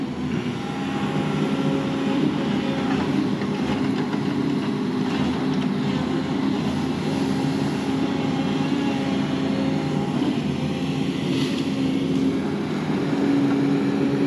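A skidder-type logging machine works in the woods, grabbing whole trees and dragging them; a steady, loud diesel engine drone with hydraulic strain runs continuously throughout, with no talk.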